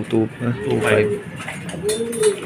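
Racing pigeons arriving at a loft coo in short, soft bursts nearby, mixed with people talking.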